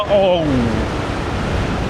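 Wind roars and buffets against the microphone in a steady rush by the sea in Da Nang, Vietnam, after a brief voice at the start.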